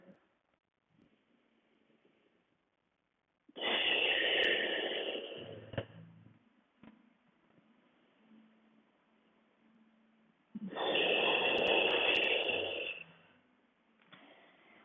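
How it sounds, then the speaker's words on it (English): Two long, deep breaths held in a yoga pose, each a broad, rushing exhale of several seconds with quiet stretches of room tone in between. "2 full breaths here."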